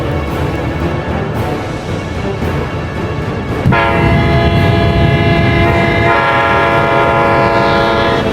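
A loud, sustained train horn blares over the heavy rumble of a moving train approaching a grade crossing in Newport News, the blast shifting pitch partway through and holding steady to the end.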